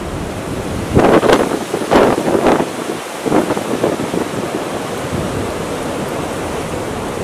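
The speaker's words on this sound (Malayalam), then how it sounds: "ഇവിടെ സാധാരണ ഇതേപോലെ ഇങ്ങനെ കാറ്റ് വീശുന്ന സമയത്ത് ചില സമയത്ത് നല്ല കാറ്റ് വരും" Strong wind blowing through leafless trees, a loud continuous roar with several surging gusts swelling and easing, close to the microphone with no talking.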